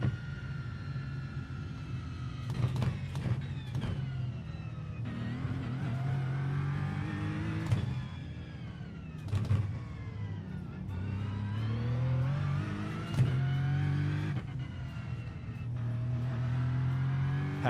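Race car engine in iRacing held under load and revving through gear shifts, a steady droning buzz rising in pitch then dropping abruptly at each shift, repeated over and over with no talk.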